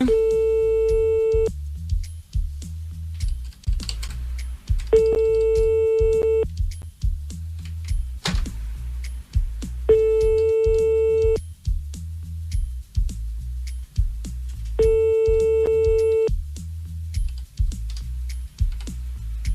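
A telephone ringback tone during a prank call goes unanswered, four evenly spaced rings separated by gaps, loud and clear over a rhythmic low thumping background.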